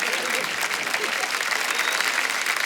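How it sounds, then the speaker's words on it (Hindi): A comedy show studio audience breaks into loud applause for a qawwali act, a dense, even wall of clapping with no gaps, steady and close throughout. "जोरदार तालियां हो जाए अली ब्रदर्स के लिए"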